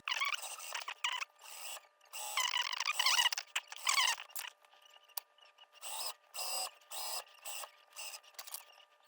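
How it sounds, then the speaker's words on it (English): A sewing machine stitches a folded hem on knit fabric for a girl's ruffle top, running in quick bursts of whirring separated by short pauses, close and fairly quiet with no talk. "I'm just gonna fold it over here and then sew it"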